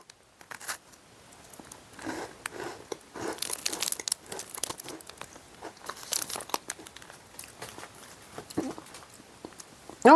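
Someone bites into a chocolate-filled German wafer snack, giving close, irregular dry crunches and crinkly chewing bursts that come and go over several seconds without talk.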